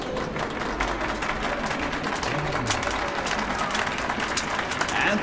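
Crowd applause and cheering at an exhibition show inside the video game Metro: Last Light, a steady dense wash of clapping that holds at even loudness throughout.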